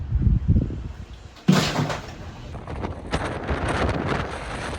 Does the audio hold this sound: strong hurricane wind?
yes